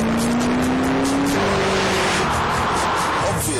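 A Ford GT's 5.4-litre supercharged V8 drives past, a loud steady roar with a rising engine note that shifts gear partway through, then fades into broadband road and wind rush.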